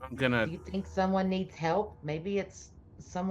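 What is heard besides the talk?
None of the usual background noises is heard.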